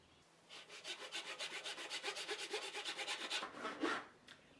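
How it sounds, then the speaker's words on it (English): A thin 1/8 inch wood strip is ripped on a saw to make a wedge for a sanding block, producing a steady run of rapid rasping strokes that rise and fall evenly, close and moderately loud, then stop with a final flourish. "I'm ripping off a 1/8 inch strip that's going to be used as the wedge"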